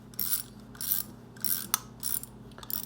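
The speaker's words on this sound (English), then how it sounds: "I'll just use the wrench and screw it all the way back in" Ratcheting wrench turning a brake caliper pin back in on a 2007 Honda VFR 800 V-Tec motorcycle's front brake, several close, loud bursts of rapid clicking separated by short pauses.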